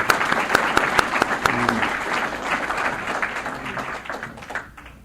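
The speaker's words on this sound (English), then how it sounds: "I'd like to give a big round of applause for Woody and for Nora May" An auditorium audience at a stem cell science lecture gives a big round of applause, with crisp close claps over a broad wash that gradually thins and fades out, and a voice murmuring briefly underneath.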